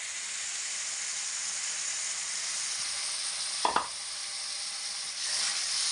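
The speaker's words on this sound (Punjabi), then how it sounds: "ਇਹਨੂੰ ਆਪਾਂ 2-4 ਮਿੰਟ ਲਈ ਚੰਗੀ ਤਰ੍ਹਾਂ ਭੁੰਨ ਲੈਣੇ ਆ ਗਾਜਰਾਂ ਨੂੰ" Grated carrots being stirred and roasted in a kadhai for carrot kheer, a steady close hiss of frying with a couple of sharp scraping clacks from the spoon midway.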